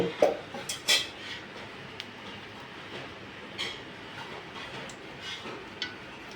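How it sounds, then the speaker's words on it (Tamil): A kadai set on a stovetop with a few loud metallic clanks near the start, then faint clinks and quieter rustling as a little oil goes in for a puri masal curry. "இப்போ குழம்பு வைக்கிறதுக்கு வடை சட்டி ஒன்று வச்சு அடுப்பை பற்றி கொஞ்சோண்டு எண்ணெய் ஊற்றணும்."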